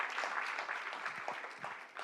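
A crowd at a Trump event for signing an order on transgender athletes in women's and girls' sports claps briefly and steadily, heard at a distance with no talk over it.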